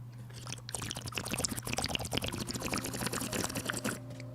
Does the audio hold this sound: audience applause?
no